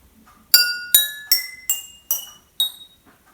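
Barbecue skewers strike different-size glasses in a kitchen, giving six bright, ringing clinks at an even pace, each with its own pitch and a short decaying ring, close and clear.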